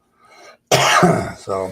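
A faint murmur, then a burst of harsh coughing close to the microphone, followed by a shorter voiced cough or throat sound.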